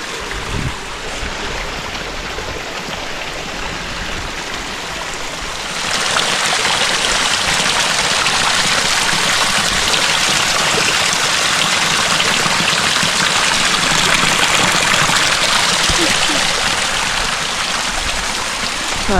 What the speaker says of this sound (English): So here's a nice water source here. Is piped as well